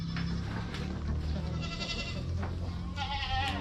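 Goats bleat on a rural Thai farm, several loud, wavering cries rising one after another over a constant, busy farmyard background.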